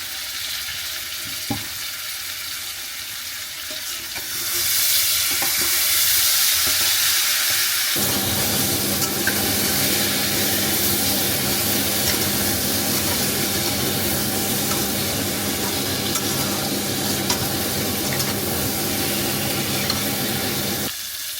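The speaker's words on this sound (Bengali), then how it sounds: "বেগুন আলু সব ভাজা হয়েছে, এখন জল দিয়ে দেবো।" Eggplant and potatoes fry in a pan for a fish curry, a loud, steady sizzle that swells partway through and then holds a dense, even crackle with no talking.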